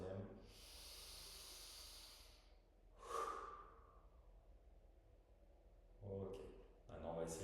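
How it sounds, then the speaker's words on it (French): A long breathy hiss of air drawn in, followed by a deep exhale blown out through the mouth, soft and close, repeated breaths at the end. "et souffler une grande fois par la bouche"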